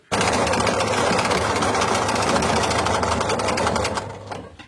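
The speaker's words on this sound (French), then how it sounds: "on continue à surpiquer sur notre surpiqûre sur environ 2 cm" A sewing machine topstitches over fabric for homemade wipes, running in one loud, continuous rapid rattle of stitches for about four seconds before slowing and stopping.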